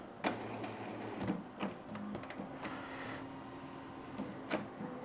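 An Epson L222 inkjet printer with a full waste ink pad whirs and clicks through its reset cycle, with scattered ticks and mechanical movements over a low steady hum.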